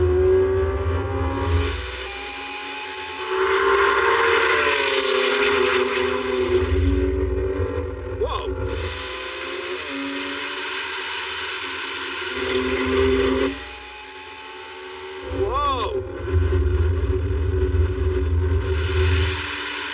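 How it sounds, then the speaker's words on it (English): A Lamborghini Revuelto, a 1000hp BMW M3 Touring and a 1000hp Audi R8 in a rolling drag race from about 40 mph in second gear. Loud engines rev hard and hold steady, with brief drops at gear changes before pulling again. "now we're going for a rolling race from about 40 mile an hour, second gear, to the half mile"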